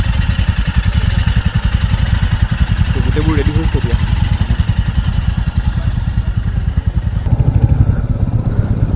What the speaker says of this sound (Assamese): এতিয়া বাইকবিলাক ক'ল্ড ষ্টাৰ্ট কৰিবলৈ থৈ দিছে।